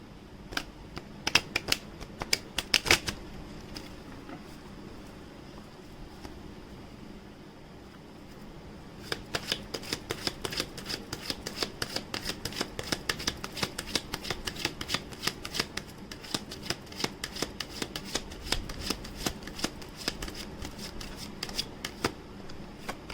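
Shuffling a Keepers tarot card deck, bursts of rapid crisp card riffles and slaps close by, a short pause, then a longer run of quick repeated shuffling sounds in a quiet room.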